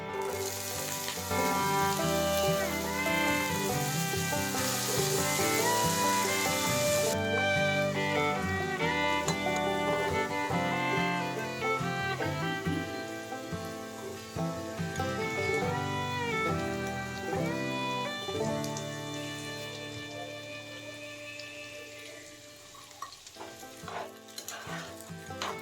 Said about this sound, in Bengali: কড়াইতে সর্ষের তেল গরম করে তাতে কেটে রাখা আলুগুলো একটু ভেজে পুঁইমেটুলিগুলো দিয়ে দেব